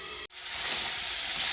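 Vegetables fry in a pan over a medium gas flame, giving a steady, close, bright sizzle that cuts out for a split second, then returns fuller and continues evenly.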